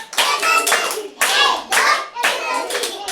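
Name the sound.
children clapping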